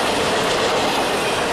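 A freight train rolls past close by on a rail line in Ohio, its steady loud rumble and wheel clatter filling the whole stretch with no pauses.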